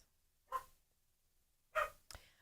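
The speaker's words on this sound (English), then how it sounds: "so you might hear some barking for a minute" A dog barks from indoors at a distance, three separate short barks with gaps between them, the last two close together, against a quiet room.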